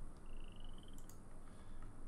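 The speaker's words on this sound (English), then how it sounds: "I hear the frogs croaking." Frogs croak faintly in the Obduction video game, a rapid trilling croak running for about a second over a dense, noisy ambient wash.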